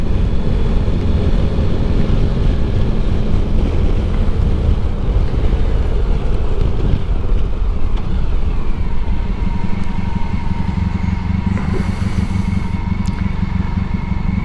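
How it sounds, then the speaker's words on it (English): Steady, loud wind roar buffets a helmet on a motorcycle ride at about 50 mph, a continuous broadband rush with low rumble and no talk. "the side wind making a lot of noise in my ears"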